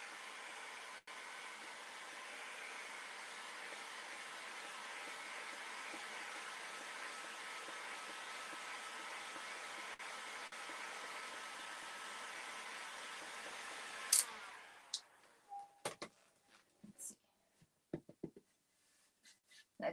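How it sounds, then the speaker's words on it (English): A heat gun blows steadily while drying drywall mud, a constant airy hiss that runs for about fourteen seconds, then cuts off and leaves a few scattered taps and knocks. "I'm gonna grab my heat gun"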